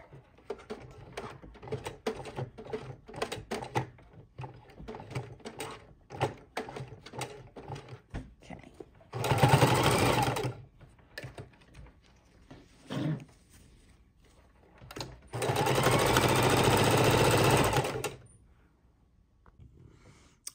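A sewing machine stitches fabric for a quilted activity mat in two sustained bursts, close and loud, between quieter stretches of clicking and mechanical handling.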